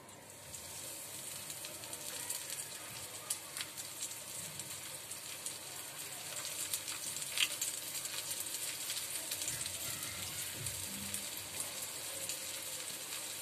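Fish coated in semolina frying in a hot pan for halwa fry, a steady soft sizzle with crackle running throughout at moderate level.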